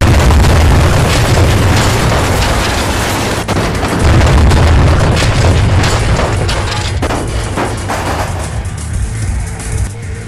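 An explosion in a game booms loudly and rolls on as a sustained heavy rumble with crackling debris, with a sharp bang partway through before slowly fading. No one talks.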